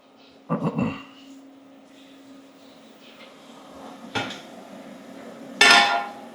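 A utensil knocks and scrapes inside a pot of black-eyed pea stew, three separate bursts of clattering stirring with quiet gaps between, close by and moderately loud.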